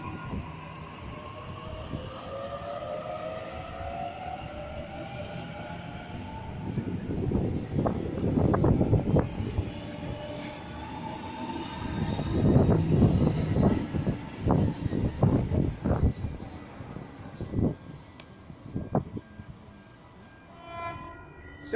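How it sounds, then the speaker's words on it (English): Sydney train set A40 pulls out of platform one at Clarendon station, a steady rumble of wheels and motor whine that builds, with rhythmic clacks over the rail joints as it moves away. "now departing from platform number one here at Clarendon"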